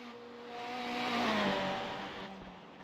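Ferrari 488 GT3 race car engine in iRacing, racing at night: a loud, steady engine drone swells to a peak as the car passes, with a gliding pitch shift and a faint tire whir, then eases off.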